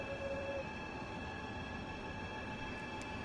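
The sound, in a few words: Intercity Express train passing in Train Sim World 3 video game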